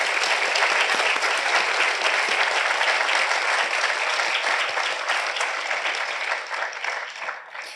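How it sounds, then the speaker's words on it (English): A large audience at a medical school white coat ceremony applauds for families and loved ones, a dense, sustained wash of clapping that stays loud and begins to fade near the end. "let's give a little round of applause to all your loved ones and family"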